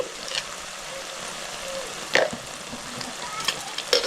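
Chilli chicken sizzles and fries in a pan while it is stirred, giving a steady close hiss with a few louder scraping clatters near the end.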